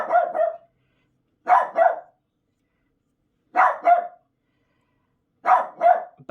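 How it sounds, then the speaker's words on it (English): A little puppy barking in short double bursts, four separate pairs of sharp yaps spaced by silence, close and fairly loud with nothing else heard between them. "He barks at everything."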